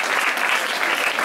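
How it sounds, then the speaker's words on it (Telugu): Audience applause at a government girls' high school event, a short burst of steady clapping from many hands at moderate level. "దానికి అందరం చప్పట్లతో"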